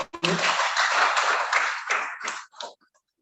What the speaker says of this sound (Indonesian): Tepuk tangan dulu untuk Pak Dek.